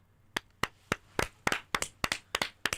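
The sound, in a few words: clapping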